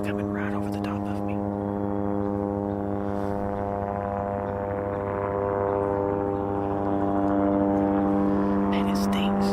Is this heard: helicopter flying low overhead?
yes